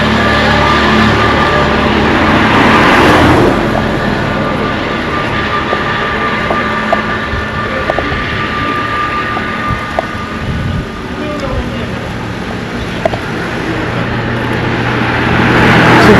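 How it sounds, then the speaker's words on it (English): Vehicles pass along a newly built, not yet finished road in Sukuta Nema, The Gambia, making a steady continuous roar of traffic with one louder pass near the start and faint knocks and clatter throughout. "You guys can see vehicles are enjoying this road."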